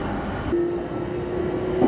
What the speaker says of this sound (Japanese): 新宿の摩天楼を眺めながら電車は西へと進路を取ります